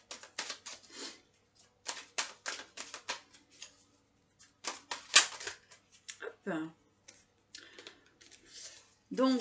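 Oracle cards being shuffled and drawn by hand at close range, heard as irregular bursts of crisp papery flicks and clicks separated by brief pauses, with a couple of softer slides and taps.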